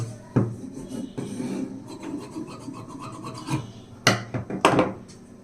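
Fabric for the back panel of a lined 30-inch blouse is cut with scissors, giving raspy rubbing and snipping strokes with a few sharper, louder cuts near the end, close and alone.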